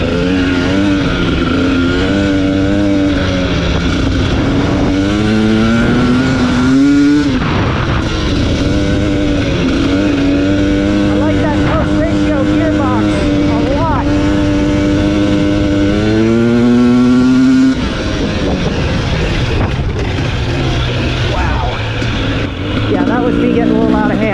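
A 2021 KTM 250 XC TPI fuel-injected two-stroke dirt bike revving hard while riding, its engine pitch climbing and dropping through gears, loud and close throughout with a rider speaking over it.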